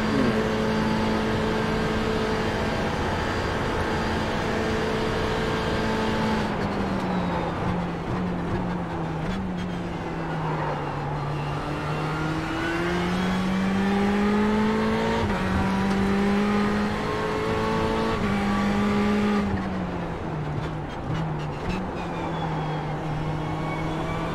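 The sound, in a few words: race car engine bouncing off rev limiter in iRacing video game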